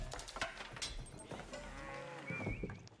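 Cows moo in Age of Empires IV, several drawn-out lowing calls overlapping at moderate distance over a quiet ambient bed.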